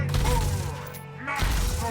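A bullet-explosion hit lands in the fighting game Killer Instinct, giving a short, punchy burst of gunfire-like impact that rises and falls within under two seconds, mixed with other game sounds.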